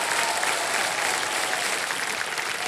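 A studio audience on the KBC game show set breaks into dense, sustained applause, a steady wash of many hands clapping together at even loudness with no voices over it.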